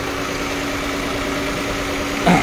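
A Toyota Camry engine idles with a steady mid-low hum and faint vibration, even and unbroken, before a brief louder knock or click right at the end; the car has a suspected alternator fault.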